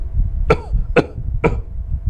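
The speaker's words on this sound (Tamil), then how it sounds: "இந்த இருமல் இருப்பவர்கள் வரட்டு இருமல்" Three dry, hacking coughs, evenly spaced about half a second apart, close and fairly loud over a low background rumble.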